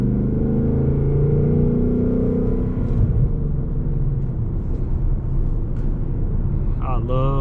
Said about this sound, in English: Listen to this rev matching real quick.